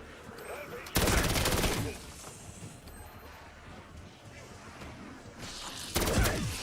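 Bursts of gunfire in Call of Duty Black Ops 7 Zombies, a loud volley near the start and another near the end, with quieter game noise between.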